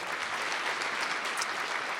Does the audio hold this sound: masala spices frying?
no